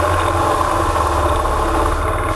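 A Kawasaki KLX dirt bike on an off-road ride in northern Pennsylvania: a loud, steady engine drone with strong low rumble and a constant buzzing tone, close and unbroken throughout.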